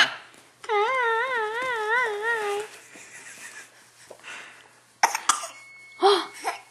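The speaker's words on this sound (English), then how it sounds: "You think that's so funny to cough, don't you?" A small child coughs on purpose in short, playful bursts, alongside a warbling babbling voice and an adult nearby; the fake coughs come close and fairly loud after quieter moments.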